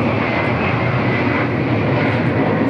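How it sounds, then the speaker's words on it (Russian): Airplanes flying overhead produce a loud, continuous engine drone that holds steady throughout, with no talking. "Самолеты, которые мешают нам"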